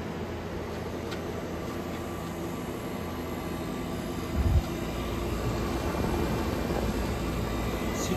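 A 1965 Fedders 12,000 BTU window air conditioner runs nearby with a loud, steady broadband drone and a low hum, with no break and one brief low thump midway.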